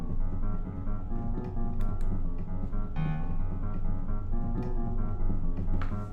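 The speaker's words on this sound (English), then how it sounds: "The Voldemort theme also leans into minor seconds." A dark MIDI orchestral passage built on minor seconds, the villain's theme, rumbles in low sustained strings and brass with a brief higher accent, steady and full, with no talking.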